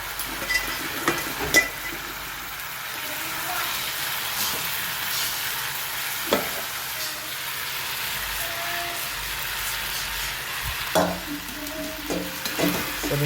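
Bataka poha with spices stirred in a pan, a soft background sizzle with intermittent scraping and tapping of the spoon against the pan.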